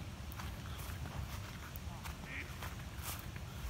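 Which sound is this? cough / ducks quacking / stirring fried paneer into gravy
ducks quacking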